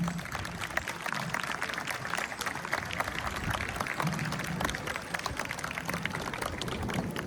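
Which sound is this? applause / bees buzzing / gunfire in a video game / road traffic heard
applause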